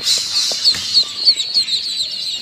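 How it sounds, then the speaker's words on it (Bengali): Peking Star 13 ducklings peep in a rapid series of high, thin calls that repeat at a steady rhythm and stay close and fairly loud, with no talking. "এই পিকিং স্টার 13 জাতের হাঁসের বাচ্চাগুলো পালন করা অত্যন্ত লাভজনক"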